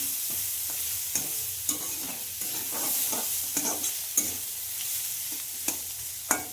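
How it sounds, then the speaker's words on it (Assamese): Spices with cumin and coriander stirred as they fry in a pan for a fish curry, a steady sizzle broken by repeated scraping strokes of a spoon, close and fairly quiet with no voices. "ভাজি থাকোঁতে ভালদৰে লৰালেই ধুনীয়াকৈ মছলাটো মিহলি হৈ যায়।"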